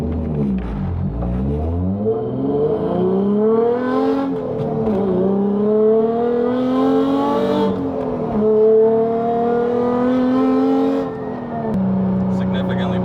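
A race car accelerates hard under load, its engine note climbing through several gears in rising harmonic sweeps with brief dips at each shift, loud and close with a voice talking over it.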